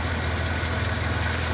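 A 5.3-litre GMC Sierra pickup engine idles with a steady, low rumbling throb, close and constant for the whole moment, while low on coolant.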